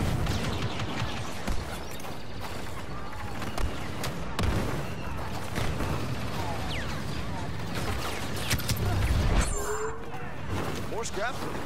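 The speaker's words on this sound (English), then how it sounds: "Like a little blaster fire" Star Wars Battlefront 2 blaster fire on Crait: dense repeated shots and mechanical clatter amid continuous battle noise, with voices talking over the action.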